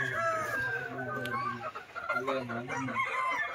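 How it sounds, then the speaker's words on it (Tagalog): Yellow-legged hens in a poultry pen cluck in close, overlapping calls, with other chickens nearby and faint background noise, no clear talk. "Ay, napakagandang mga inahin."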